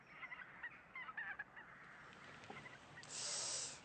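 A small flock of about fifteen geese honking at a distance on a winter morning, scattered calls building into a louder burst of wingbeats or calls near the end.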